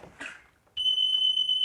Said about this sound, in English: When burglar alarms go off